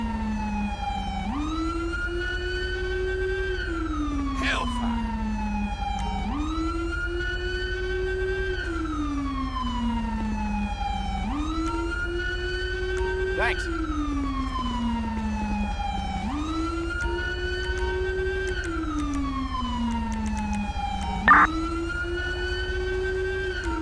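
A loud wailing police siren in the video game LSPDFR rises and falls in a steady repeating cycle, continuous and close, over a low engine rumble with no voices.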